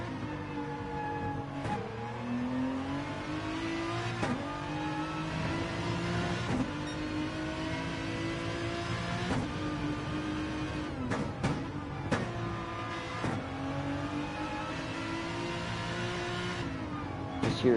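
Aston Martin race car engine in a sim racing game at the Nürburgring 24 hours, revving continuously with repeated upshifts and climbing pitch, steady and moderately loud with no talk.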